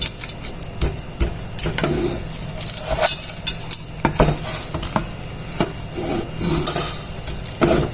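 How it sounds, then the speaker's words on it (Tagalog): Dates and almonds being stirred and mashed in a pan, with steady scraping and clinking of a utensil against the metal and repeated sharp knocks, close and moderately loud, with no talk. "Haluin natin hanggang sa madurog ng mabuti yung ating tamar."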